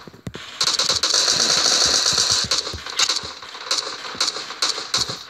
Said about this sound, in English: We got gunfire in all directions.